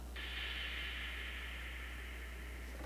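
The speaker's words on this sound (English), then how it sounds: "So we've got a crash sample that I have," Crash cymbal sample run fully wet through an Echo Boy echo effect, so no attack is heard, only a washy, sustained shimmering hiss that holds steadily and fades out, quiet and alone.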